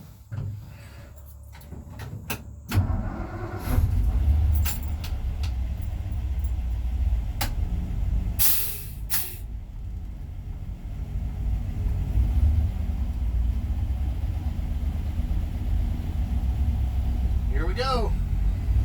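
Inside the cab of a 1960 Ford C600 cab-over truck rolling down the road, a loud steady low engine and road rumble fills the clip, with clunks and rattles early on and a few sharp knocks.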